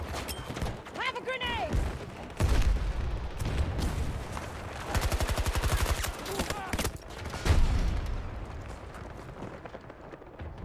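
Battlefield 2042 combat with a grenade blast and bursts of gunfire, heavy booms and rapid rattling shots layered over a busy battlefield din, with a player's voice heard briefly.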